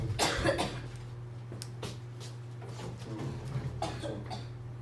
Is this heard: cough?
yes